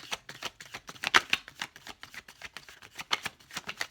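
A deck of tarot cards is shuffled by hand in a quick series of crisp riffling flicks and soft slaps, close and fairly quiet, with no voices.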